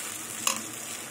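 A fennel spice paste thinned with water sizzles steadily in a hot pan, with one brief scrape of a spatula partway through.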